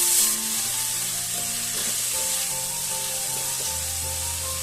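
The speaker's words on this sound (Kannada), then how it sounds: "ಈರುಳ್ಳಿ ಚೆನ್ನಾಗಿ ಫ್ರೈ ಆಗಲಿ." Two medium onions, finely chopped, sizzle steadily in a hot pan, a continuous bright frying hiss with faint stirring scrapes, close and fairly loud with no talking.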